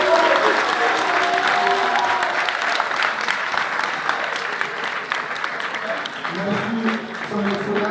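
Sustained applause from an audience after a political speech on pan-Africanism, dense and steady clapping throughout with some crowd murmur and a voice beginning near the end.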